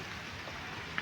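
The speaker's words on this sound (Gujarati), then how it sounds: "ફાઇનલી અત્યારે વરસાદ ચાલુ થઈ ગયો છે" Rain begins falling on a road between Sartanpar and Talaja, a steady faint wash of drops with no distinct patter or voices.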